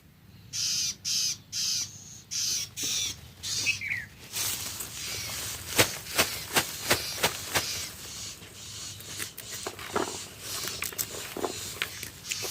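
Harsh, evenly spaced calls of a koel repeat several times on a farm, followed by scattered sharp clicks and faint chirps of other birds against quiet background.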